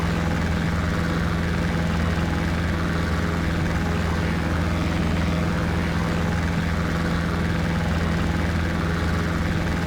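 A DR400 light aircraft's propeller engine in the X-Plane flight simulator drones steadily and loudly throughout, a constant hum with no breaks and no voices.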